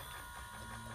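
Homemade disaster ventilator built from PVC pipe with a T connector and a Velcro-held bag valve mask, its rotation and pushing mechanism giving a steady faint mechanical whir and ratcheting hum.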